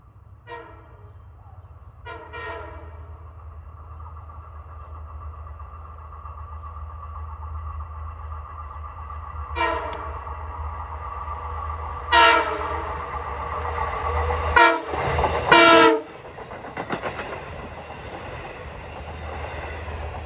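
LIRR train 6063, Patchogue to Babylon on the Montauk Branch, rumbles past with a steady low roar while its horn sounds in several short blasts, the last ones loudest, before the noise fades slightly.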